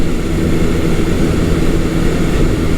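A Honda CB400T Hawk (400 Super Dream) motorcycle engine pulling hard above 5,000 RPM, a loud, steady, dense drone that holds without a break for a few seconds.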